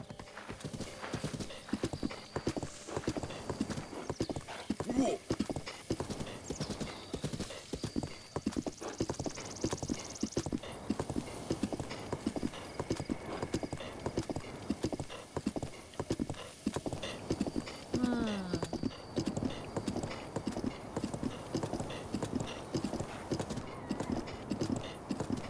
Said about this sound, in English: Not sure why the horse just did that.